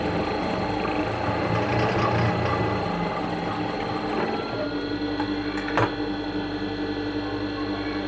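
A sewing machine stitching a blouse, a steady mechanical whirring and rattling hum that continues throughout, close and fairly loud.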